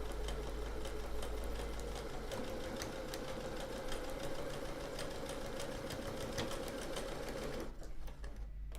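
A sewing machine stitches a seam in one steady run, its motor whirring evenly with rapid ticking from the needle. It sounds close, then stops abruptly near the end.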